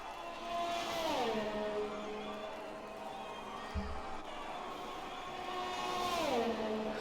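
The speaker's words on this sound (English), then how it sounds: "Let's just enjoy hearing the sounds of those wonderful F1 cars." Formula 1 hybrid race cars on a hot lap around the Hanoi circuit in Vietnam, their engines whining steadily and twice sweeping down through the gears as they brake, heard continuously at moderate distance.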